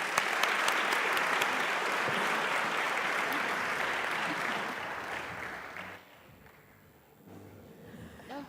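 Sustained audience applause at a financial industry conference, a dense, steady wash of many hands clapping for about six seconds before thinning out and fading to scattered claps.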